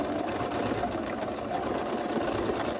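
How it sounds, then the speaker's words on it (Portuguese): Sewing machine stitching a seam on an easy flared dress with a waist tie: a continuous, even mechanical whir with a fast rhythmic needle chatter, close and steady throughout, no speech. "Fizemos aqui a primeira costura, né?"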